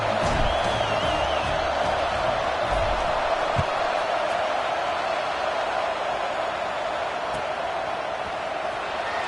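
Large crowd filling a college football stadium at a Washington vs Notre Dame game, a steady, dense roar of many voices that stays fairly even throughout, with scattered shouts and no standout cheer.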